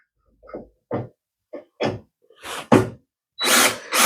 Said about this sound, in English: And now I can commence the drilling.